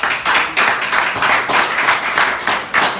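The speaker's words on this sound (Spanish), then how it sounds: "Ese aplauso que sea para ella" Applause from a church congregation after a baptism testimony, steady rhythmic clapping of many hands that swells and dips in waves, loud and close, with no talk over it.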